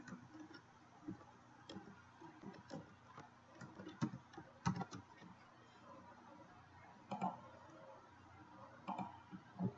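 Irregular light clicks of a computer keyboard being typed on, close and quiet, in short bursts scattered across a low steady room hum, with no voices.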